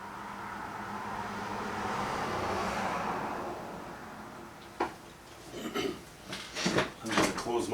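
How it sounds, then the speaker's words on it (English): Rush hour traffic passes outside an open window, a vehicle swelling up and fading away from mid-distance, then closer clatter and knocks from inside the room; a person speaks briefly. "there's a lot of traffic going by"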